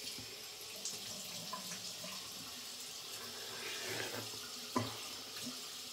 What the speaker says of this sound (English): Wetting the face, wetting the brush.